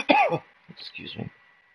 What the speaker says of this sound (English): I don't mean to cough in your ear, I apologize.